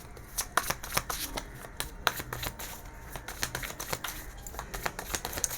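Tarot cards being shuffled by hand, a run of quick, close riffling and flicking bursts in an uneven rhythm, fairly soft and with no talk.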